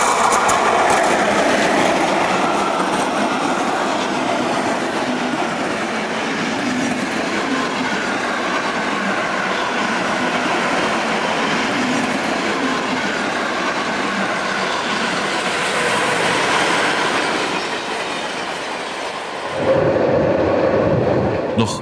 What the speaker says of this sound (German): Bei der Beförderung eines Interzonenzuges hat die 119 eine adäquate Zugleistung zu erbringen.